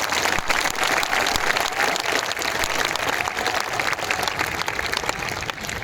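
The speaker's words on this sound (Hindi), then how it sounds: "ताली बजानी है तो हमारी माताओं बहनों के लिए बजाइए" A large audience at a motivational gathering applauds steadily and loudly throughout, dense continuous clapping filling the space without pause.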